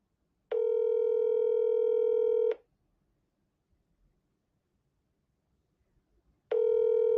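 Telephone ringback tones during a call, two long steady electronic rings several seconds apart with near-silence between, clear and close.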